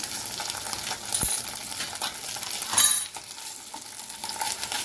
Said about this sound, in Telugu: చాలా సిమ్లో వండుకోండి, లోపల వరకు ఫ్రై అవ్వాలి కదా పీసులన్నీ.